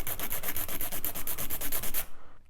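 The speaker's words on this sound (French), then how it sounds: "Donc on va limer le bord de notre ongle" Steady rapid back-and-forth rasping of a file across the edge of a gel fingernail, close and even for about two seconds before stopping abruptly.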